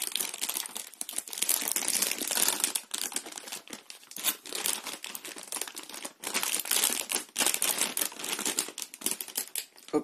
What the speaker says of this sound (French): Je vais sortir la carte mère de son plastique antistatique.